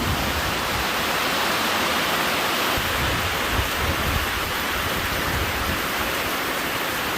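Heavy storm rain pouring down in a dense, unbroken hiss, loud and steady throughout, with no voices.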